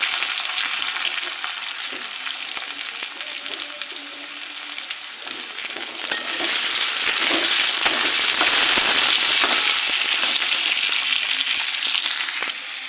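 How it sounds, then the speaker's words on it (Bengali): Potatoes and ginger tempering sizzle steadily in hot oil while being stirred for a vegetarian spinach and vegetable dish; a constant close frying hiss that swells louder partway through, with light stirring scrapes and no talking. "এবার দিয়ে দেবো আদা ফোড়ন। দিয়ে দেবো আলু।"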